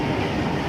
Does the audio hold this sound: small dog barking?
no